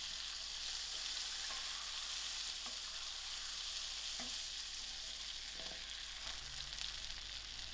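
Butter and sugar melt together in a pan for caramel, giving a steady, soft frying sizzle throughout with a few faint clicks of stirring and no voices.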